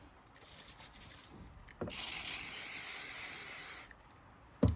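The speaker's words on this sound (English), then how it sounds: "I've got some WD-40, which I'm going to be using just to spray it on" A WD-40 aerosol can sprays in a steady, loud hiss lasting about two seconds, with a shorter faint burst before it and a click at the end.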